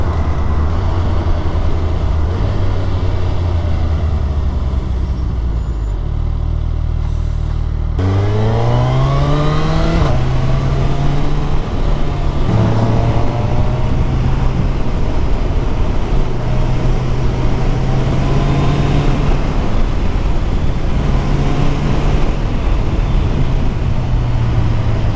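A 2022 Suzuki Hayabusa motorcycle accelerates hard, its engine note climbing in pitch and dropping briefly with each quick-shifter upshift. The smooth gear changes run up through several gears, loud and continuous, with no talk.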